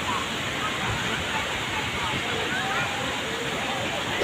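Strong sea surf rolls steadily onto a crowded Boracay island beach, a dense continuous wash of breaking waves with distant crowd murmur blended in.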